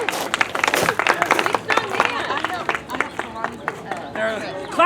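Audience clapping and cheering at a sword swallowing stage show, with a lively crowd murmur, fairly close, while a voice talks over the applause.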